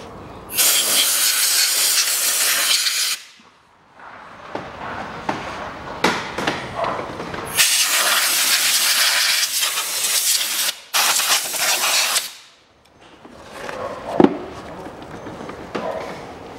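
Compressed air blasting out the dirty air filter housing of a 2011 Chevrolet Cruze, loud hissing bursts of a few seconds each, three long blasts separated by short pauses, with a hand shielding the spray.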